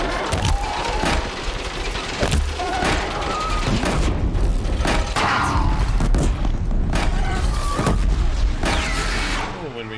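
Sticky bombs fired from a blast sling in Horizon Zero Dawn, going off in dense, overlapping booms and crackling blasts over a steady loud rumble of combat, continuous and heavy throughout.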